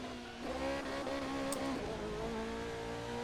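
Race car engine in the Assetto Corsa sim revving steadily with shifting pitch, loud and close, a continuous high-rev drone with rising and falling tones and no talk.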